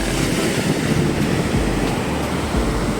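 Continuous surf at a white sand beach in Dinadiawan, Aurora, waves rolling in under a steady wash of wind noise, with low rumbles between breakers and no talking.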